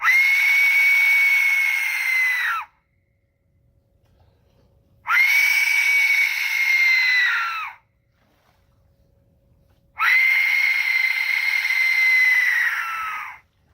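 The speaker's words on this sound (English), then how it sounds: "Aztec death whistles." Three long, shrill, scream-like Aztec death whistle blasts, each about two and a half seconds, separated by short silences.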